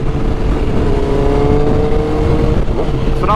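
A motorcycle engine runs steadily and loudly throughout, its rising pitch suggesting acceleration as the bike rides past outdoors on a ride with family, with no talk over it.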